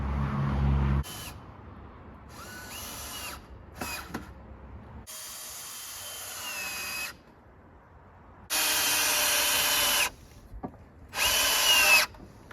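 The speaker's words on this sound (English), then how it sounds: "And I'm always screwing not into the end grain, but always into like side grain or the face of it." A power drill drives screws into the side grain of a wooden workbench in a one-car garage shop, running in several separate bursts of a few seconds each, close and loud, with short pauses between.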